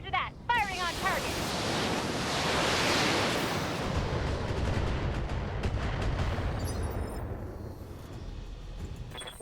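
Weapons firing on a target in BattleTech, a broad roaring barrage of heavy booms and rumbling blasts that swells and then slowly fades, with a few sharp crackles at the start.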